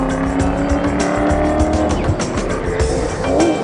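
A Toyota Hilux Overdrive rally car in the Abu Dhabi 2018 desert rally drives hard, its engine revving and rising with gear changes and a brief tyre squeal, close and loud.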